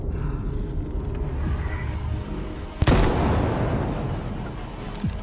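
A single sharp boom from a grenade launcher in the video game S.T.A.L.K.E.R. 2, followed by a rumbling tail and low ambient noise, with a softer pop near the end.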